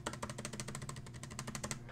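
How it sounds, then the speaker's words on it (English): Rapid, fairly even keystrokes on the clicky keyboard of an M3 Pro MacBook Pro laptop, a steady run of close, crisp taps over a low background hum with no talking. "The keys on this are a little bit more clickier."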